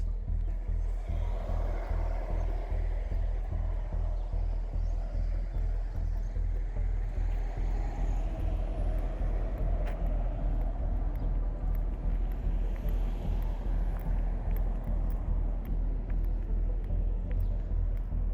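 A car drives along a road leaving a village in Spain's Ebro Basin on an early late-May morning, a steady close engine and tyre rumble running throughout with no talk.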